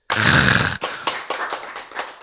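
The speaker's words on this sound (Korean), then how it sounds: "박수" A lecture audience at a Bible class applauds: a dense, loud burst of clapping that breaks off, followed by a handful of scattered single claps trailing away.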